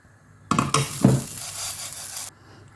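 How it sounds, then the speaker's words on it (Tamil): Urad dal dry roasting in a pan gives a close, steady rustling sizzle with a couple of scraping stirs at the start, ending abruptly after about two seconds. "உளுந்தையும் இந்த அளவுக்கு வறுத்துக்கோங்க"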